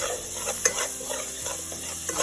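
Green pepper, celery, onion and garlic sauteing with curry powder make a loud, steady sizzle close by, with a clack of a utensil against the pan and light stirring, and no speech.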